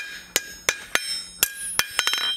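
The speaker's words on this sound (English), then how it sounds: "using the smaller hammer, just fixing up the chamfer as well as the neck here a little bit" Small hammer striking hot steel while forging a roasting fork handle, about ten sharp ringing blows at an uneven pace, spaced at first and then closer together near the end.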